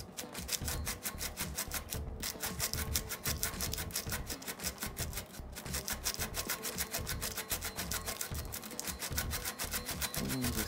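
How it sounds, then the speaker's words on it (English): Steady rasping scrape of a tool working material off the high spot of a carbon bicycle frame, prepared for a flat-mount brake; continuous rhythmic strokes, close and fairly quiet, with no talking. "we're starting to scrape this little bit of material off"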